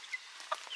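Hens clucking softly in a wooded run with grass and shade, a few faint short clucks close together.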